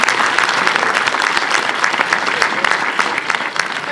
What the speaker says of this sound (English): I want you to give a round of applause to all of our Ujamaa men